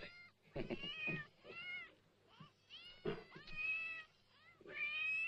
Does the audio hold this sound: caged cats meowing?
yes